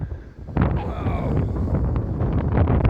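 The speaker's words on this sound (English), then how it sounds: "that wind's getting stronger now" Strong, gusting wind sweeps along Blackpool promenade in cold, rainy weather, buffeting the microphone with a heavy, continuous low roar that swells after the first half-second.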